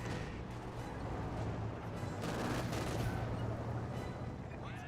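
Gunfire and explosions as German Grenadiers push forward against a Soviet conscript squad in Company of Heroes 2, a dense rattle of shots and booms at moderate volume with no talk.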